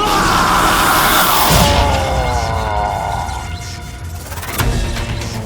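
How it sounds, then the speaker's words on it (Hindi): Several people scream and yell together in a loud, anguished chorus that swells and then fades, with a deep boom and rumble rising near the end. "ये चीखें सुनाई दे रही हैं"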